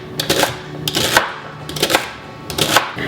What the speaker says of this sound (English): again, roughly kind of chop them